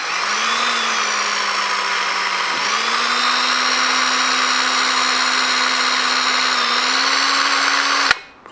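A drill bores steadily into a thick piece of stainless steel on a GSXR motorcycle track build, giving a loud, continuous whine with a slight pitch dip near three seconds before cutting off abruptly at the end.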